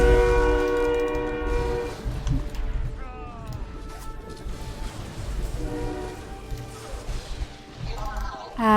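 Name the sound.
passing train with horn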